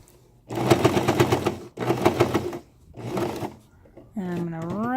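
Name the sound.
sewing machine top stitching a cloth pad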